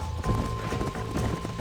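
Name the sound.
horse galloping, from the video game Red Dead Redemption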